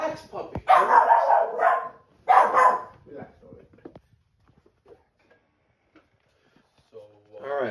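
A puppy barks in a finished basement, a few sharp bursts close by, with someone talking over and between them.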